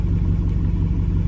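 A Dodge Charger R/T idles steadily at close range, a low, even engine rumble holding without change.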